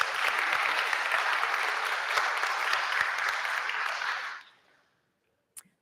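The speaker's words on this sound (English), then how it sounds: "Round of applause for our fierce leaders." An audience at a talk breaks into strong, even applause that holds steady for about four seconds, then fades quickly to silence, with one small knock near the end.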